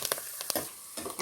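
Cut green chillies drop into hot oil in a pan for a bilimbi (irumban puli) pickle, giving brief crackling sizzle bursts with a few stirring scrapes over a quiet, steady fry.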